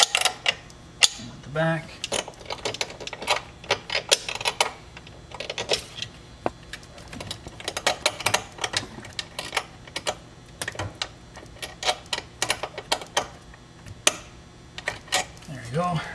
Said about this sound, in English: Wrench, getting those in there snug.